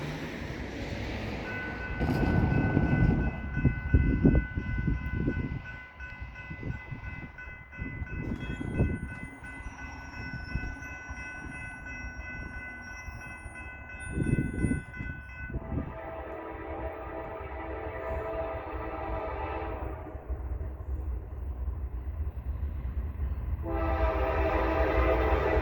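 Train horn blasts repeatedly, loud and sustained in long stacked tones, as a train passes during a weekend of railfanning in Ohio, with rumbling rail noise beneath and the horn fading into the continuing roar of the passing cars.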